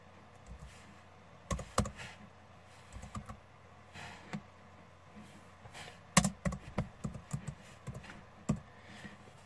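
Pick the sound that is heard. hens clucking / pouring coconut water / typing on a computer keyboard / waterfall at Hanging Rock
typing on a computer keyboard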